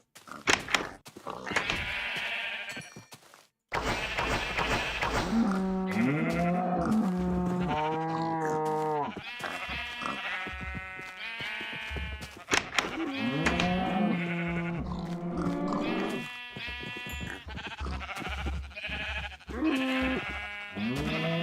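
Sheep bleating repeatedly in the video game Minecraft, several loud, wavering bleats from close by, spread across the stretch with short gaps and a few dull thunks between them.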